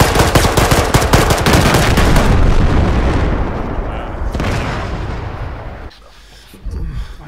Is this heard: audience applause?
no